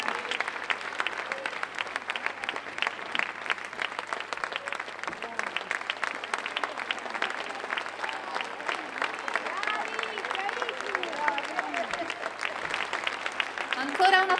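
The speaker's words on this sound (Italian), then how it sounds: "un grandissimo applauso" A concert audience gives sustained applause for the musicians, dense clapping throughout at a moderate level with a voice speaking over it.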